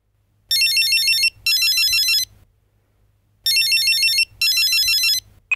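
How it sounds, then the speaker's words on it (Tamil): A mobile phone ringtone plays loud and close, a bright electronic melody sounding in two pairs of short bursts separated by a pause. "மேடம் ஃபோன் ரிங் ஆகுறது உங்களோடது."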